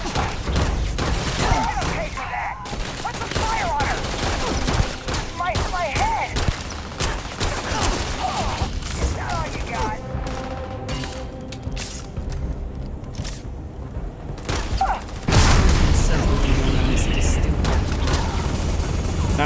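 Gunfire in the Starfield video game, with bursts of shots and booms mixed with game sounds and people talking over the action, growing louder near the end.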